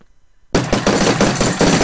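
Rapid automatic gunfire from a gun in GTA Minecraft, a loud, dense burst of shots starting abruptly after a brief quiet moment.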